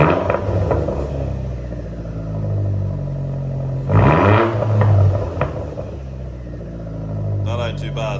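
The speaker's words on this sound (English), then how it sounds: "you can hear this turbo spool as well" A Vauxhall Astra GT with its back box deleted idles with a deep rumble, then blips the throttle midway. A rising turbo whine sweeps up over the engine note before it settles back, all loud and close.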